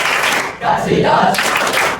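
A group of participants does a rhythmic clapping chant in a classroom-style warm-up, short loud bursts of claps and voices close by, with a brief dip in the middle.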